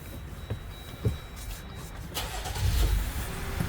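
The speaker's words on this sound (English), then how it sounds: "let's go start the car up" A car engine starts with a push-button start: a few faint clicks and soft thumps, then a sudden crank and catch into a low, rumbling idle that swells and holds steady, heard fairly close.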